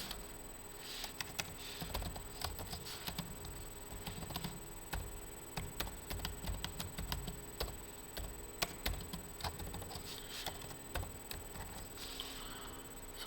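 Typing on a computer keyboard while writing C++ code: dense, rapid key clicks and taps continue steadily for the whole stretch, close and clear, with no voices.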